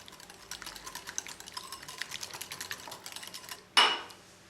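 Seasoned tilapia fillets with salt and white pepper being mixed in a bowl, with quick, rapid clicking and tapping that ends in a louder clank.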